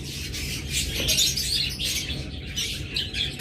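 Caged pairs of pet birds chirp and rustle, bright high overlapping calls in quick bursts with occasional wing flutter, close and fairly loud, no voices.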